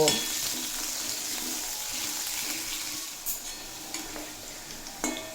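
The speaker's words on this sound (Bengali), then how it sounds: "আলু দিয়ে দেড় মিনিট মতো ভেজে নেব" Potatoes fry in a pan for a vegetarian raw-pumpkin dish, giving a steady soft sizzle with occasional sharper scrapes and clinks of stirring near the end; no one speaks.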